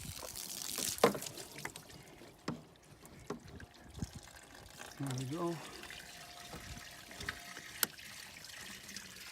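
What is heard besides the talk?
water flushing through Cadillac CTS radiator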